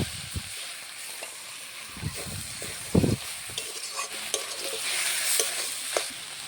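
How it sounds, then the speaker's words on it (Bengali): Pre-fried crab and potato pieces tipped into a hot frying pan, a few thumps and clatters over a steady sizzle, then continuing close frying and stirring. "এবার আমি কাঁকড়া আর আলুটা ভেজে রেখেছিলাম সেইগুলো দিয়ে দেবো।"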